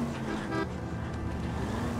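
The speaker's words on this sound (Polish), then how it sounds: "No i stanie na środku skrzyżowania i trąbi." Car horn honking at a city intersection in the video game L.A. Noire, a short toot over steady engine and traffic hum, fairly faint.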